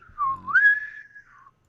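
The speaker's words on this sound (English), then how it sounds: "So it's to welcome dignitaries or whatever aboard. We call it in the Federation a space whistle." A boatswain's-style ship's whistle piping aboard to welcome dignitaries in a Star Trek setting: one clear, sustained tone lasting about a second and a half that dips, swoops upward, holds steady, then trails off, with no talk.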